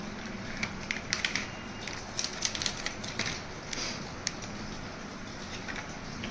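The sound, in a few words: stirring milk powder into warm water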